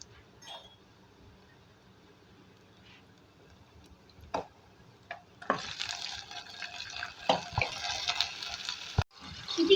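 Boiled mutton drops into a hot pan and a loud, steady sizzle takes over, with scraping and clinks of a utensil stirring through it.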